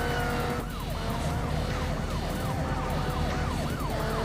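Police car sirens wail in a Need for Speed video game cutscene, several overlapping rising-and-falling tones sweeping steadily over a loud, continuous engine and road rumble, with no talking.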